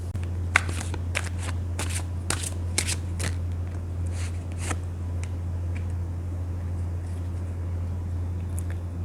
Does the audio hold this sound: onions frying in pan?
no